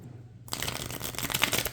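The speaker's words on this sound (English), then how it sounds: "I'm going to shuffle up my deck" A deck of Lorcana trading cards is riffled and shuffled close by, a brief quiet pause giving way to a dense, continuous burst of crisp flutter and snapping card edges.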